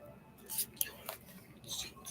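Soft, quick riffles and flicks of tarot cards being shuffled, a few brief crisp bursts close by and quiet.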